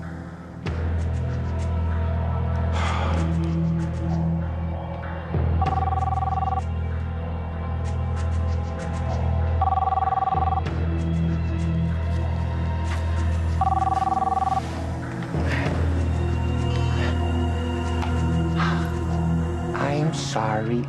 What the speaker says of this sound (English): Come on, Fancy, pick up the phone.